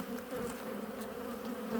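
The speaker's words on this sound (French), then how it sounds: "Là, on a quand même beaucoup d'abeilles, bonne dynamique." Black honeybees in a hive buzz in a steady, faint, continuous hum during a winter inspection, heard alone with no talking.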